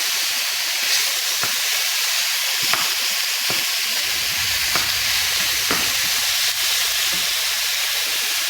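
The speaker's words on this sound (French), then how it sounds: "faire dorer gentiment la viande, mais très légèrement" Minced meat browns gently in a pan for a spaghetti squash bolognese, giving a steady close sizzle and hiss broken by a few sharp stirring scrapes and taps against the pan.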